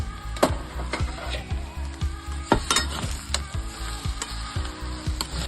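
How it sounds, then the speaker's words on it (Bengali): Mixed Maggi noodles sizzle in a pan as a spoon stirs them, with regular scraping strokes over a steady frying hiss, heard close and clear with no speech. "আবার একটু নাড়াচাড়া করে নিলাম"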